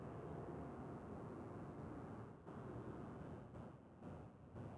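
American 79 Heavy, an airliner going around at DFW: a broad, steady jet roar, distant and muffled under wind noise on the microphone, holding constant with a few small dips in level.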